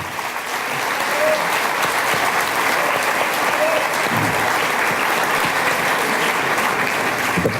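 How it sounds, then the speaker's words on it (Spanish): Sustained, dense applause from a crowd, steady and loud for several seconds after a brief quieter start. "Devuelvo el aplauso a los madrugadores que están en Chillán"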